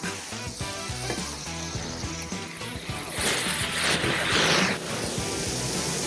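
Smashburger patties pressed into shallots on a hot griddle give a loud, close, continuous sizzle and crackle that surges briefly midway, with scraping touches and a voice talking over it.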